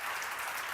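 Dense, steady applause from a church seminar audience, a continuous wash of many hands clapping with no gaps, fairly loud throughout.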